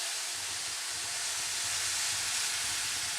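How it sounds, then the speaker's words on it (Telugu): Hot sugar syrup pours over boondi for motichoor laddu, giving a steady soft hiss and faint sizzle up close, with a low hum beneath and no speech. "ఈ షుగర్ నీళ్ళు ఇందులో పోసేసుకుందాం."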